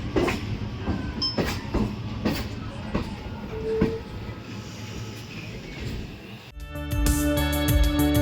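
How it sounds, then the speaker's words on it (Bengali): A Sealdah–Namkhana local train pulls out from a station platform, its wheels beating a regular clatter over rail joints before a louder, tonal burst of noise at the end. "Train number 34716 down Shialda Namkhana local will leave from platform number"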